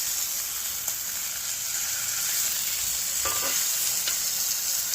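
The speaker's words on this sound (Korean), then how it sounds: "자, 겉이 바삭하게 시어링이 될 때까지 익힙니다." Korean beef sirloin steak sears in a hot pan with a steady, loud hiss and sizzle, broken by a few faint clinks and scrapes of a utensil.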